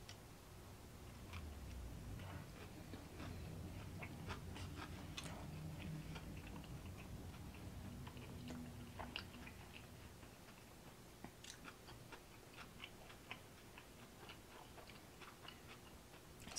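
Crunchy Taco Bell crispy taco with shredded purple cabbage being eaten up close, giving repeated crisp bites and chewing crackles under a steady low background rumble, with no talking.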